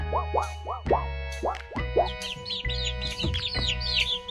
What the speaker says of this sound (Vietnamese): chú gà con,